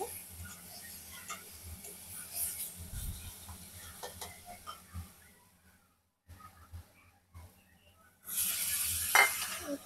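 Capsicum frying with onion, turmeric and cumin in a pan, soft quiet sizzling with scattered stirring clicks and clinks, rising into a louder hiss near the end.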